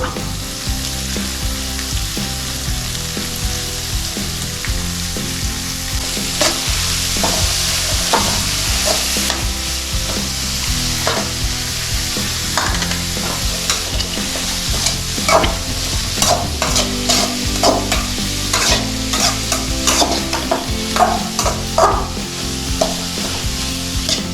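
Salted kutti beans frying in a pan while being stirred, a loud steady sizzle with repeated scraping and clattering stirring strokes growing busier toward the end.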